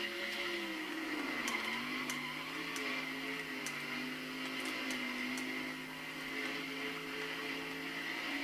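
A race car in NASCAR Thunder 2004 drones steadily around the track, its engine tone dipping and rising as it shifts, with faint sharp clicks scattered over the sustained hum.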